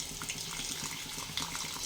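Cooking water is drained from a pot of boiled green peas, pouring and splashing steadily and close by for the whole moment.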